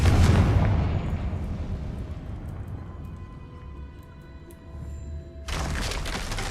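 Confringo spell explosion in a video game, a heavy booming blast that opens loud and decays into a rumbling tail before another burst of noise hits, with no talk.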